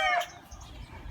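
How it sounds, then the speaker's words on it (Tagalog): A chicken at a crowded poultry yard gives a short, close squawk, followed by low rustling and faint background noise. "So kung makikita niyo, napakaraming manok dito ni Kapipi."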